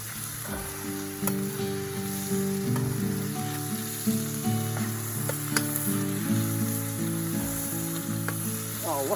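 Steady, close sizzling of food frying in a pan just after being flipped at a riverside camp, a continuous hiss with faint clicks and a low hum beneath, no talking.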